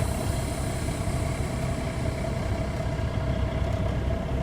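A truck's diesel engine idles steadily and loudly during a pre-trip trailer parking brake test, a constant low rumble with a faint whine and no talking.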